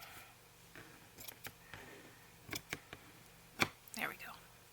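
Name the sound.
cutting journal paper with scissors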